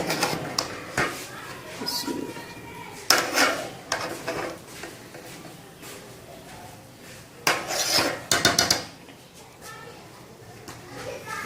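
Vegetable chicken pulao is served from the cooking pot with metal utensils: several clinks, taps and scrapes against the pot come in separate bursts while someone talks.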